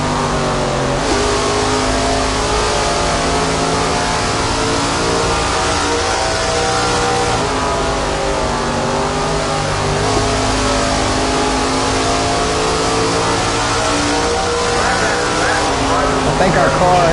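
An SRX series race car engine revs and drones at Stafford Speedway, a loud continuous mid-pitched roar with shifting harmonic tones throughout.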